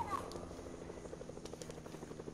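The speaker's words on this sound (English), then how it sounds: "start to shoot my helicopter" A helicopter in the Fortnite video game whirs with a steady, close rotor throb, its blades pulsing evenly and continuously throughout.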